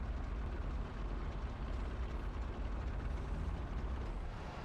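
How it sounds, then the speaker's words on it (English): A fighter jet flies overhead in the video game PUBG Mobile, a steady low roaring rumble at moderate distance that holds evenly throughout, with no talk. "Yo, someone has a fighter jet."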